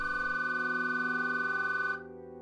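A telephone rings with a steady, loud electronic bell tone for about two seconds, then cuts off abruptly, with no voices.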